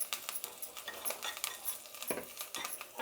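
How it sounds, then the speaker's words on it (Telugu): A spoon clicking and scraping briskly in a bowl, mixing a vada batter seasoned with a pinch of asafoetida and turmeric, a quick, close, soft patter of repeated strokes with no talking. "ఇప్పుడు దీన్ని బాగా కలుపుకుందాము"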